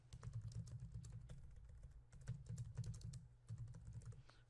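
Steady typing on a computer keyboard, a continuous run of close, quiet key clicks with brief pauses, no voices.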